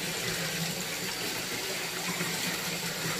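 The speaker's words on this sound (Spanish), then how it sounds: "Aquí andan jugando con agua." Water splashes and runs steadily as toddlers play with it at home, a dense, continuous rushing wash like a running tap that fills the whole moment without any voices.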